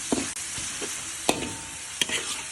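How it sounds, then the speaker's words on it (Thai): Minced pork frying in a pan gives a soft, steady sizzle, with a few sharp scrapes and clicks of a spatula against the pan, fairly quiet and close. "เราทอดให้สุกเลยนะครับ"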